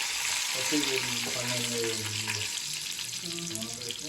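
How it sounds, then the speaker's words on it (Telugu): Oil sizzles and crackles steadily in a hot pan as onion tempering fries for jujube chutney, a close, continuous frying hiss with faint stirring. "తాలింపు వేగింది"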